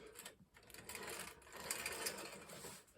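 A Marx toy train caboose fitted with metal wheels runs along track, giving a faint, continuous rapid clattering and whirring that rises and falls slightly, with no talking.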